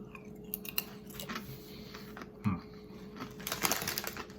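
Ruffles Double Crunch Honey Mustard potato chips being chewed close up, with irregular crisp crunches scattered through a few seconds and a louder burst of crunching near the end.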